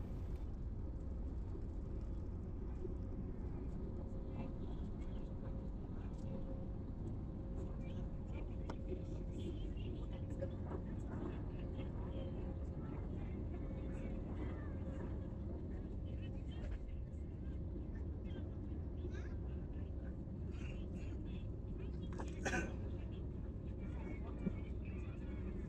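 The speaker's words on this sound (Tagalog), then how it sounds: "ito yung paglanding ng eroplano. Dito yan sa Iloilo International Airport" An airplane landing at Iloilo International Airport, a steady broad low roar of jet engines and rushing air that holds throughout with little change, close and loud, with a brief sharper burst near the end.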